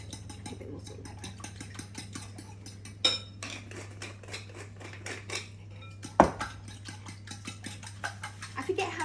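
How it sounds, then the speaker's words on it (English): Utensil scraping and clinking in a pan while a tomato tart mixture is stirred, with irregular close taps and scrapes over a steady low hum, and one sharper knock midway. "So just stir that around a bit and make sure it's all mixed in as well."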